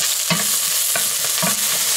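Onions and minced garlic sizzle in olive oil in a pan, loud and close, with a few scraping stirs breaking through the steady frying hiss.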